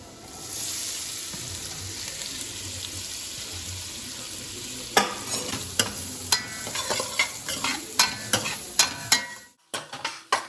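Onion frying in a pan for pav bhaji, a steady close sizzle followed by a run of rhythmic scraping stirs against the pan, then a brief pause, with no talk.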